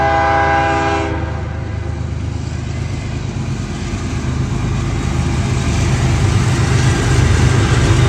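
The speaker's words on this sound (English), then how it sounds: "I gotta wave at this train just a minute" A train passes close by, its loud horn blaring at the start, followed by the sustained rumble and clatter of rail cars rolling past.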